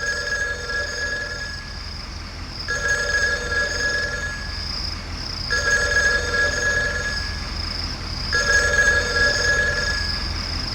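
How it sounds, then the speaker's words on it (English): A telephone rings in a hut in the adventure game Ark of Time, four repeated bursts of bright electronic trilling separated by short gaps, steady and fairly loud over a low background hum. "I think the telephone is ringing in the hut."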